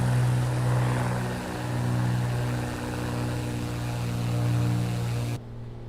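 Beechcraft A36 Bonanza single-engine propeller airplane powering up, a steady loud droning engine hum with a strong low buzzing tone, continuous and close, cutting off abruptly near the end.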